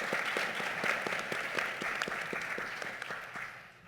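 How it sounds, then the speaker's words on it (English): Audience applause for the panelists at an annual mental health symposium, a steady wash of many hands clapping that holds across the clip and fades slightly at the end, with no voices over it. "Let's give our panelists a round of applause"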